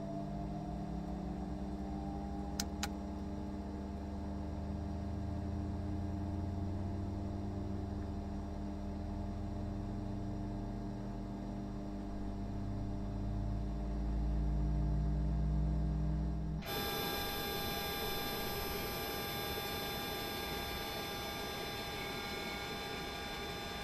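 An Airbus A350 engine spools up in a flight simulator game, a steady rising turbine whine and rumble that swells and then shifts abruptly into a louder, brighter roar.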